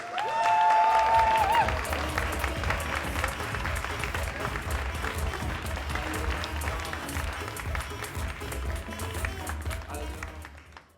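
An audience applauds the final speaker, Liz Mosley, with dense steady clapping and cheering that stays strong for about ten seconds before easing off, with a brief whistle or tone near the start.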